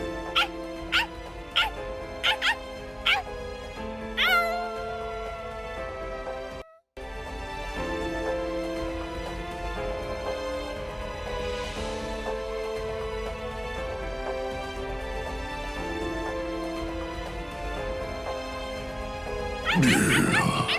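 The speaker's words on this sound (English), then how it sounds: "Stupid, annoying dog." A dog in the video game Bleach Rebirth of Souls gives a few short barks, then whimpers and yips over a bed of game music, ending with a brief louder burst.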